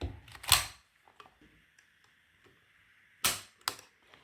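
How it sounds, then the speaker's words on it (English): Dry-fire trigger pulls on a CZ40-B pistol at a table: a few sharp, close mechanical snaps, two loud clicks near the start and two more later, with faint handling noise in between. "So when we do a trigger pull with this"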